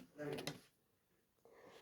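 An indoor door is pushed shut with a single short clunk and rattle, close by, followed by near quiet and a faint knock at the end.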